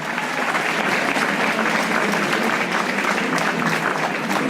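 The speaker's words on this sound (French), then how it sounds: "Vos applaudissements, mesdames et messieurs." An audience at a Miss and Mister pageant event applauds steadily, a dense, even wash of clapping that stays loud and continuous throughout.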